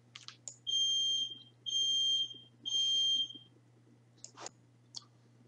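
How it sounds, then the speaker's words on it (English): A smoke alarm goes off in a room with three long, loud, steady high-pitched beeps, each about three quarters of a second, then a few sharp clicks and taps follow. No one speaks. "Had a little alarm there I had to take care of."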